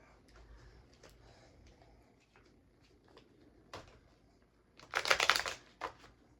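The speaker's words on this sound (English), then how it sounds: "Let's draw some cards on this." Tarot cards handled quietly at first with soft taps and slides, then a brief loud riffle shuffle near the end, close and alone.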